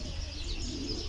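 Pigeons coo steadily through a short stretch of outdoor ambience, soft low-pitched calls with a faint chirp mixed in, with no voices.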